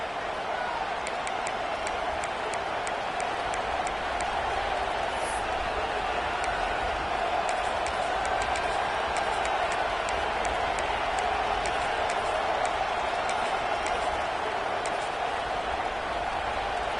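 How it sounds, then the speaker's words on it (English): Stadium crowd in College Football 26 during a Texas A&M home game against Tennessee, a steady, dense roar of cheering that holds at full level throughout with no break. "This crowd ready to make its presence known."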